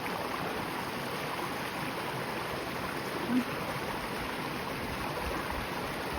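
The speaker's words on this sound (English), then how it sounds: "This is my buddy Mission crossing Holcomb Creek." Steady rushing of Holcomb Creek flowing nearby on the Pacific Crest Trail, a continuous broadband burble at moderate level with no talking.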